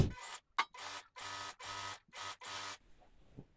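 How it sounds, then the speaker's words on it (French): Sewing machine stitching the sleeves of a loose sweatshirt, running in six or seven short whirring bursts separated by brief pauses, close and fairly loud, with no voices. "je vais coudre mes manches."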